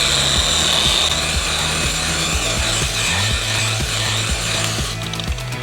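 A random orbital polisher buffs wax onto a Jaguar XJR 100 (X308), giving a steady close mechanical whir with a regular rubbing, ratcheting pulse that runs throughout, no talk.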